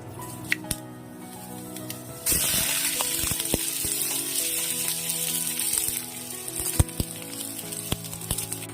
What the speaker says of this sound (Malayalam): ഓയിൽ ചൂടായി വരുന്നുണ്ട്. ഇനി നമുക്ക് കുറച്ച് ഉലുവ ഇട്ട് കൊടുക്കാം.